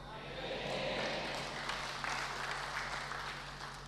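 An audience claps inside a church during a Kyai's sermon, a sustained wash of applause lasting a few seconds, with crowd voices mixed in underneath.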